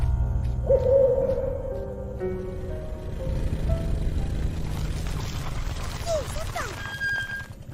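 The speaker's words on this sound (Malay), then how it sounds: "Burung hantu." An owl hoots in low, mellow notes over a droning background in an animated cartoon, with some voices and other sounds mixed in.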